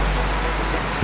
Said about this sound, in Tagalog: Ang lakas ng ulan dito ngayon sa Tagaytay.